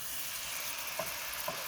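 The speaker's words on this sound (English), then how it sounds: "Hear the sizzling?" Sliced bananas sizzling in butter in a pan for bananas Foster, a steady close-up frying hiss with two soft stirring knocks near the end.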